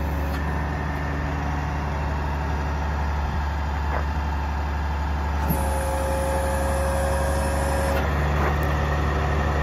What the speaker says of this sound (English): But truck goes down the road really smooth for what it is.